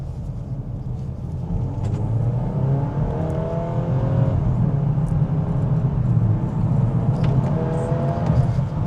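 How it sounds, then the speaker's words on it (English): A 2025 VW Golf R in sport mode, heard from inside the cabin: a steady, fairly loud engine drone whose revs rise and fall in smooth sweeps as the automatic downshifts off the throttle, with no talk. "A lot of downshifting going on when I let off the accelerator when it's in sport mode."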